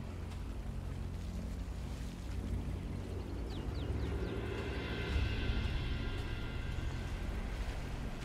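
A boat in the video game Sniper Elite 5, its engine a steady low rumble with water wash and wind noise, fairly constant and moderately close, with no talking.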